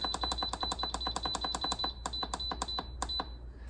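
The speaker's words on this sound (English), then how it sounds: "Then I'm just going to press soup and I'm going to put it for 60 minutes." An Instant Pot lets out a rapid run of short, high electronic beeps as its soup setting is pressed. The beeps come fast and evenly, then slow to a few sparse ones near the end.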